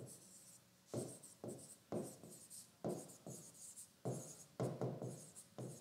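Pen strokes on paper while working out a Class 9 Heron's formula maths problem, a series of short scratchy scribbles in quick bursts with brief pauses, close and fairly quiet.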